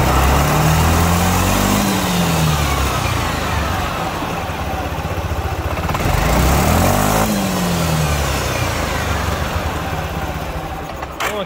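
Engine of a Dafra Citycom 300i scooter runs steadily near the microphone for about eleven seconds, a continuous mechanical hum with small pitch rises and dips, suggesting a transmission noise, with no talk.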